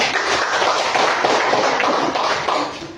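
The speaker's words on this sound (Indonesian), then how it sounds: "oke, tepuk tangan untuk teman-teman kita ini." A classroom of students claps for their classmates, a dense, steady patter of many hands close by that carries on for a few seconds and then thins out toward the end.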